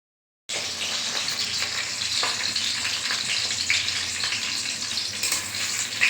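Potato and egg fritters fry in a pan of oil, a continuous hissing sizzle that starts abruptly after a brief silence and stays steady, moderately quiet and close, with no talking.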